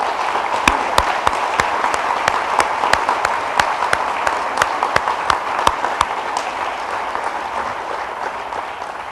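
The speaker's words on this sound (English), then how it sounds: "I'd like to give them one big group round of applause" A group round of applause at an awards ceremony for young athletes, with a crowd clapping steadily and densely, individual sharp claps standing out above the sustained wash, fading slightly toward the end.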